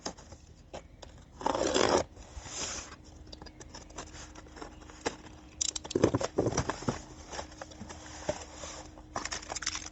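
An electric bike's shipping box is opened and packed parts are handled, giving bursts of cardboard and plastic rustling, scraping and tearing with scattered clicks and taps between quieter pauses, close by with no speech.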